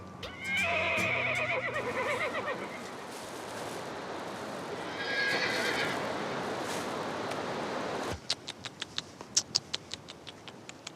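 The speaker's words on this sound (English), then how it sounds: "This breed of horse is called the Spotted Beauty." A Kyrgyz dappled horse whinnies loudly, then neighs again a few seconds later, followed by a series of sharp clip-clop hoof knocks close by.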